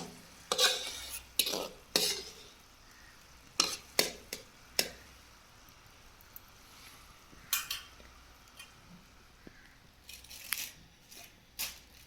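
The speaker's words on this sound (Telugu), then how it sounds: "చూడండి, చక్కెర అంతా కరిగిపోయి పాకం వస్తుంది కదా" A spoon stirs melting sugar syrup in a pan for coconut burfi, giving sharp intermittent clinks and scrapes against quiet, faint background bubbling.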